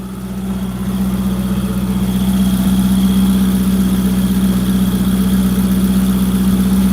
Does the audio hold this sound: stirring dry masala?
no